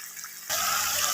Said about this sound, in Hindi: तो इतना पानी डालें जिसमें ये अच्छे से गल जाएं।